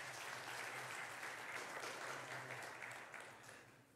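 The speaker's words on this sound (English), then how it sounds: "Let's give them another round of applause." A church congregation applauds in a steady, dense wash of clapping that holds for several seconds before slowly thinning and fading toward the end.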